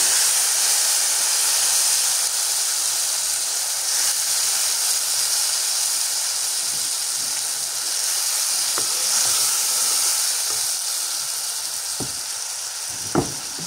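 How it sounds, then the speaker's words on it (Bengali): Lentils (dal) poured into a hot pan sizzle with a loud, steady hiss and a few sharp pops and clicks, close up and without speech. "এর মধ্যে হচ্ছে ডালটা ঢেলে দিব।"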